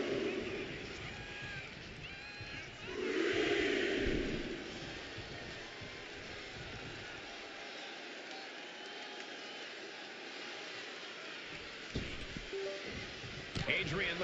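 A broad, steady crowd roar fills a WWE 2K25 wrestling arena, swelling louder for about a second early on before settling back to a constant background din.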